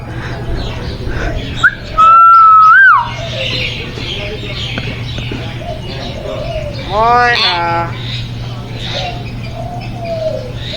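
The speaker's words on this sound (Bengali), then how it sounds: "দেখতে পাচ্ছেন এই ময়না পাখি কেমন ডাকছে এবং সে কিন্তু কথা বলছে" A myna bird calls, with a sharp whistled note and a rapid warbling burst of chirps, among other birdsong and a low steady background hum.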